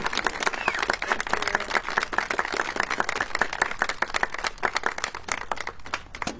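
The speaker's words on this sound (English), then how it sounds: "let's give Director Peck another round of applause" Steady, dense applause and clapping from an audience at a tornado anniversary commemoration event, sustained at an even level throughout without a break.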